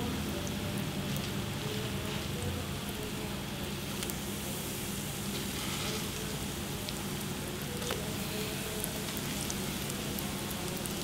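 Food frying in hot oil on a low flame, a steady, dense crackling sizzle that stays even throughout with scattered sharper pops.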